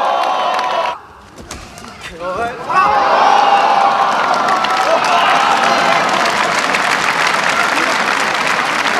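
Loud, sustained applause and cheering from a crowd at a company sports festival, following a sumo-style bout. It dips briefly near the start, then swells into steady clapping with scattered shouts and whoops through to the end.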